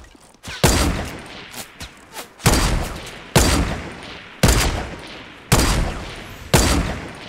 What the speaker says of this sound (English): My bullets go so slow.